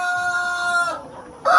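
A Brahma rooster on a local chicken farm crows loudly and close by in one long drawn-out call that breaks off, then starts again at full strength at the end.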